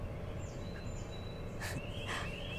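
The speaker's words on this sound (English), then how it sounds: "I love listening to these birds." Outdoor birds chirp and call in short, separate bursts over a steady, noisy background, with a couple of brighter calls near the end and no talking.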